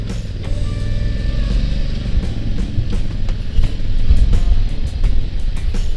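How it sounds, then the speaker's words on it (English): A 2021 Honda Africa Twin motorcycle engine drones steadily while riding, a loud, low rumbling hum mixed with rushing wind noise that swells slightly toward the end. "It kind of has a weird sound to it, I'd say, as far as the sound of the bike."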